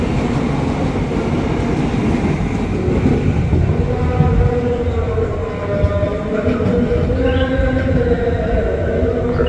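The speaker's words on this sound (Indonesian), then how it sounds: "Hati-hati jalur 5 dari arah selatan akan segera masuk kembali tujuan akhir stasiun Tangerang" KRL commuter electric train rolling into Duri station on track 5, a loud continuous rumble of wheels and motors close by, with rising whining tones in the latter half as the carriages pass.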